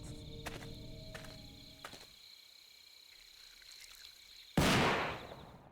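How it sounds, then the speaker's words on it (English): In the video game Death Mark 2, a single sharp gunshot cracks out near the end, echoing across shrine grounds with a quickly decaying echo, after a quiet stretch of faint electronic tones and low ambience. "the sound of a gunshot rings out and reverberates through the shrine grounds"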